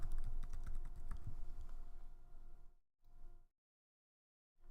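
Rapid, close clicks of keys on a computer keyboard while a folder name is typed, a busy burst of keystrokes that thins out and stops, broken by short silences near the end.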